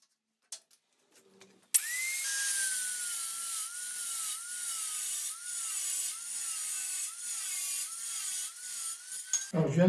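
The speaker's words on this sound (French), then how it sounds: "c'est mon premier essai avec ce disque et il se comporte plutôt bien lors de la découpe" A diamond cutting disc slices through material at triple speed. After a few soft knocks, a sharp, sustained high whine with gritty grinding takes over and wavers steadily until a clatter at the end.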